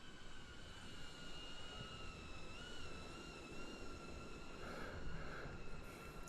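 A cinewhoop FPV drone flies through tight gaps between trees, giving a faint, steady high-pitched motor whine with sustained tonal hum whose pitch shifts slightly as it maneuvers, continuous throughout.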